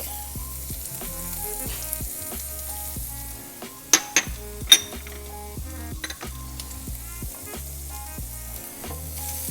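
Garlic added to onion frying in a pan for vegan collard greens, a continuous crackling sizzle with stirring, a few sharp utensil clinks against the pan midway, and no talking.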